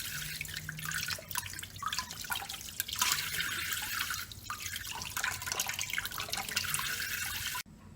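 Chicken wings and thighs are rinsed under a running kitchen tap, with a steady hiss and splash of water and uneven drips as the pieces are moved about in the sink, cut off abruptly at the end.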